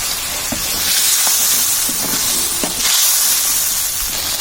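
Ground turmeric and coriander powder sizzle and hiss in hot oil in a pan, with a few scraping stirs scattered through the steady frying noise.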